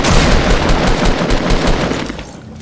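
Rapid gunfire in Fortnite Battle Royale, a loud dense burst of automatic shots rattling continuously before tapering off near the end, with no talking over it.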